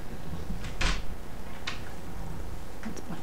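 A door in a cozy vacation rental cabin swings open with a couple of soft clunks and a latch click against steady room noise, with no talking.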